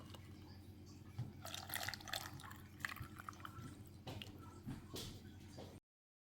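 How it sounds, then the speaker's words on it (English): Salt brine made from sea salt and water pours into jars of sloe berries, a soft continuous trickle and splash of liquid filling glass, fairly quiet and without talk. "we're going to just top up the jars with this brine"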